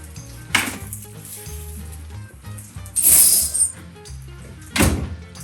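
Bacon sizzles in hot oil while a pumpkin soup is being prepared, with a steady crackle and several louder bursts of spitting and pan clatter.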